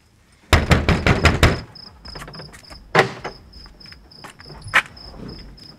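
Knocking on a door: a quick series of sharp, loud raps, then a single knock, then a few lighter taps. A high steady tone runs underneath.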